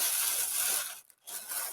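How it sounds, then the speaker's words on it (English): Tissue paper being scrunched up in a box gives close, loud crinkling and rustling, a brief pause, then more crumpling. "sorry about the noise, scrunch that up in the bottom just to make it a bit"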